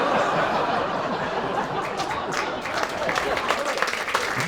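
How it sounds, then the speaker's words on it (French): An audience at a French satirical press review show breaks into loud, sustained clapping mixed with chuckles and laughter, and voices come through beneath the applause. "Vous n'allez pas l'applaudir"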